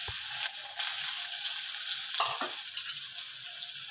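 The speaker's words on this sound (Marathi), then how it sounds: "आता हा बारीक चिरलेला एक मध्यम कांदा आहे तो घालत आहे मी।" A medium onion, finely chopped, drops into oil with asafoetida over a low flame. A steady, fairly quiet sizzle follows, broken by a few stirring knocks against the pan.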